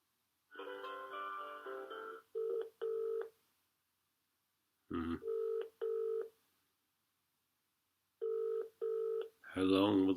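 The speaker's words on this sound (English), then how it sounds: "How long will the phone ring for?" A telephone rings in repeated double bursts, with pauses of about two seconds between rings, while a call is put through. A voice speaks briefly at the end.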